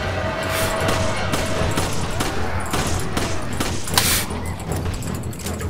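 Dense bursts of rapid gunfire with scattered single shots from the video game Resident Evil 5, steady and close, continuing under faint background voices.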